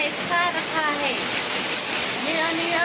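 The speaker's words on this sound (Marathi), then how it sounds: "वाहत आहे वाहत आहे सगळा रस्ता धुवून झाला आहे" Floodwater from heavy rain rushes down a road in a steady, loud, broadband roar of running water that never lets up, with a voice talking over it at times.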